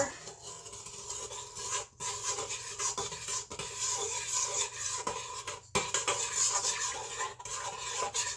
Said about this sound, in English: next I'm going to give it a quick stir